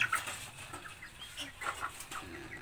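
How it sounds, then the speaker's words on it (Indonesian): Colorful dyed chicks cheep in short, faint, high peeps scattered through the stretch, with a few soft clucks in the background. "itu anak ayam"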